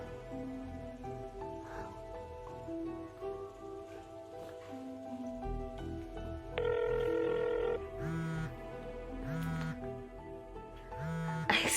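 A cellphone rings with an incoming call, a repeating electronic melody of bright tonal bursts over a low background music bed, with no talking.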